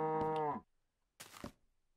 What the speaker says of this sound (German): Auf der Rückseite eine Kuh.